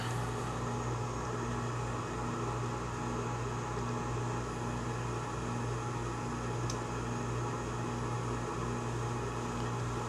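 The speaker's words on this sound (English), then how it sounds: "You can hear that blower just turned on." A Bradford White water heater's inducer blower motor runs with a steady, quiet mechanical hum and airy whir, holding an even level throughout with no voices.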